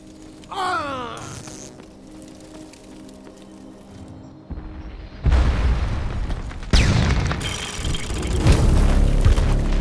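In the video game Defiance, a destroyed target goes up in a couple of booming explosions amid chaotic game effects, with bursts growing louder and denser toward the end.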